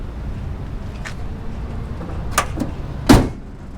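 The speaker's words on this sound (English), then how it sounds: "You gonna shut the hood?" The hood of a 1993 Dodge Cummins W250 pickup is closed with one solid metallic slam near the end, after a couple of softer clunks, over a steady low idling rumble.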